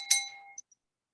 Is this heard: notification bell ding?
yes